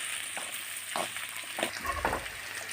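Food fries in a pan with a steady sizzle, broken by several short scraping stirs and a deeper rumble near the end; close, moderately loud, and no talking.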